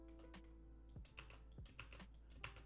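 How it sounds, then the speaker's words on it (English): Rapid typing on a computer keyboard, quick irregular clicks and taps close by with a couple of heavier key strikes, alone without voices. "you just keep clicking and pressing Shift R, and you probably make a bunch of noise with your keyboard"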